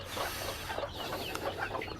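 Hens in a chicken coop where they roost at night, soft scattered clucks and low murmuring calls close by, quiet and intermittent without speech.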